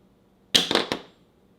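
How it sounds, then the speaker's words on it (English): A heavy metal American Express Platinum card hits a hard surface and bounces, giving three quick, bright clanks close by in near silence. "now let's do the drop test and see what type of noise this card can make"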